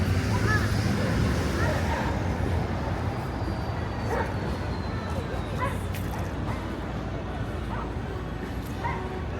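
Dogs bark and yip in short scattered bursts at a dog park in New York City near Fifth Avenue, heard at a distance over steady loud city traffic noise.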